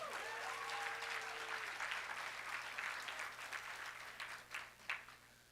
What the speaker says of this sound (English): So let's give a round of applause for the Legal Defense Fund.